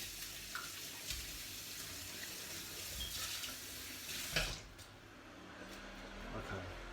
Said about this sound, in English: Let's wash our hands again.